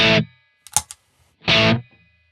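An electric guitar runs through a JOYO R-10 bucket brigade delay pedal set to one fast repeat. Two loud, distorted stabs stand apart from each other, with a softer, smeared burst between them.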